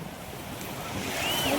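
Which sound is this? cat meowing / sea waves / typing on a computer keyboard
sea waves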